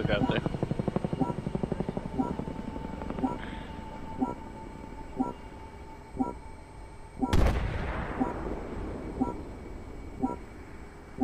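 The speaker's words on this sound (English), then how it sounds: "That helicopter." A helicopter in the Armored Warfare video game thumps out a steady, evenly spaced rotor beat throughout, with a loud blast-like burst in the middle and a continuous engine hum underneath.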